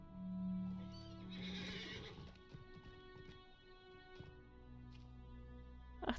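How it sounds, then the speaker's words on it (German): A horse in Lord of the Rings Online whinnies loudly at the start, followed by a steady clip-clop of hooves under soft game music, ending with a short bright chime. "Laufe ich aber mal mit Pferdchen rum."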